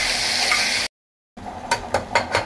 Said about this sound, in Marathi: आपण अद्रक, लसूण, कोथिंबीर जे कुटून घेतलेलं आहे ते घालायचं आणि चांगलं त्याचा कच्चा वास जाईल असं आपण फ्राय करून घ्यायचं